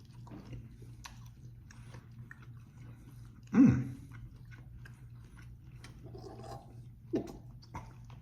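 Someone chewing Chinese sausage in a collagen casing, heard as soft, close mouth noises and a couple of brief louder bites over a quiet room hum.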